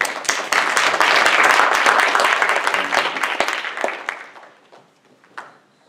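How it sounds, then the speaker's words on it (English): An audience claps for a speaker at a Holocaust survivors' talk on a global awareness day, with dense applause holding steady for about four seconds before thinning out to a few scattered last claps. "let's give him a warm round of applause"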